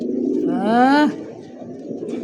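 Pigeons at a Bangladeshi bird market give a clear, rising coo that lasts about half a second, close by and fairly loud, over a background of chatter and a brief spoken word.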